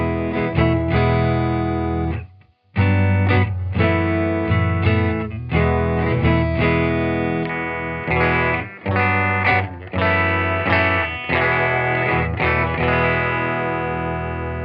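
A Fender Stratocaster with Duncan single-coil pickups plays through a Silk Tone amp with no effect, giving a loud, sustained, harmonically rich electric guitar sound with strummed chords and a brief gap near the start.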